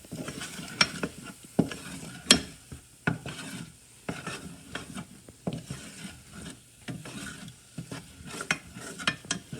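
Choux pastry dough for eclairs being stirred constantly in a pan on the heat, with repeated scraping, knocking strokes of the spoon against the pan and a faint sizzle beneath, no talking.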